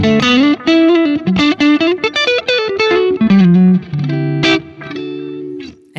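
A Telecaster electric guitar with a 4-way switch played through a small pedalboard, rapid picked single notes and runs with effects colouring the tone, ringing out loud and clear, with a few sustained notes near the end.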